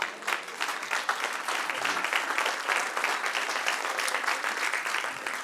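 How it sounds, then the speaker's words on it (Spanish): A church audience applauds steadily, dense clapping at moderate level throughout with no break and no speech over it. "Denle un aplauso al que reina."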